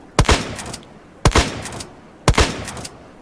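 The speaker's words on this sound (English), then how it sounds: "I shot it 6 times, and it didn't die" Three loud, evenly spaced gunshots ring out in a Wild West video game as a player fires at a bear, each sharp crack followed by a brief echoing tail.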